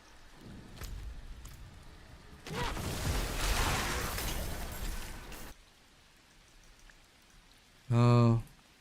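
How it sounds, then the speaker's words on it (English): Rain ambience from the Diablo 4 game hisses steadily at low level and swells louder for a few seconds in the middle, and a brief, loud, buzzing tone sounds near the end. "I was wondering, my rain sounds were a bit softer. I wasn't getting the full enjoyment of the rain sounds."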